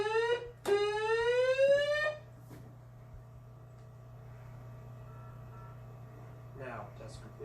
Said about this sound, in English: That alarm is what indicates to everyone at the unit that we have a SAR case.